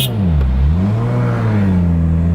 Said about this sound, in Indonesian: jadi ini first drive kita di Toyota Supra Redux single turbo.